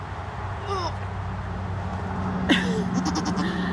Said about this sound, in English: They are Nigerian dwarf goats